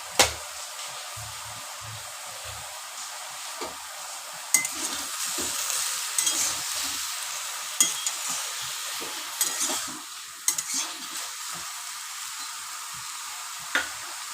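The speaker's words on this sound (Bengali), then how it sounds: "এবারে এই দুটোকে ভেজে বেটে রাখবো।" White mustard seeds fry in a dry pan with a soft, continuous hiss, punctuated by occasional sharp clicks and taps of a spoon stirring against the metal.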